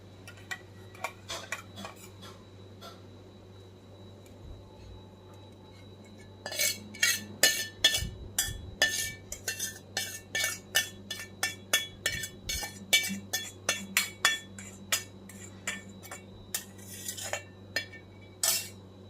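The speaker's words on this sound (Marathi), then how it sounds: "आपण हा मसाला सर्व कालवूयात फोडींमध्ये" Spice masala being mixed into raw mango pickle pieces, quiet at first, then a long run of rapid metallic clinks and taps of a spoon against a container, close and irregular with no talking.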